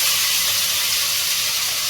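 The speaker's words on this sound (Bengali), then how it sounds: "মাছটা ভাজছি" Fish frying in a pan in a home kitchen, a loud, steady, close sizzle and hiss of hot oil that holds unbroken throughout, with no speech.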